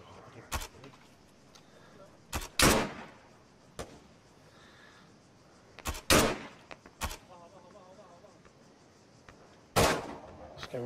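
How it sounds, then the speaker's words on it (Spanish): Gunshots crack nearby in a series of sharp, loud reports spaced irregularly over about ten seconds, with quieter talk in the gaps between them. "me suena aquí más cerca los tiros"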